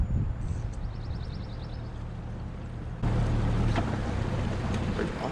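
A fishing boat's engine idles on open water, a steady low rumble with wind buffeting the microphone; the rumble thickens and grows louder partway through.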